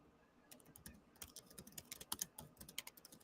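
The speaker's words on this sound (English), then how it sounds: "I was just typing to somebody" Typing on a computer keyboard, with a rapid, uneven run of crisp key clicks that grows busier and louder partway through and sounds close by, with no talking.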